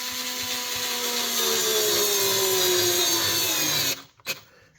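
A Ryobi multi-head screwdriver drives a 7/16 truss head screw into 1/2-inch plywood, a steady close whine whose pitch slides downward as the screw bites, then stops abruptly with a short click.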